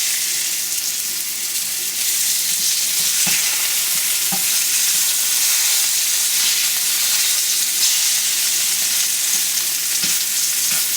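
Pork chops sizzle loudly in a frying pan, a constant close hiss of hot fat with a few faint clicks and taps scattered through it.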